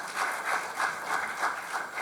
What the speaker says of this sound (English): Round of applause for Dr. Edwin Boit.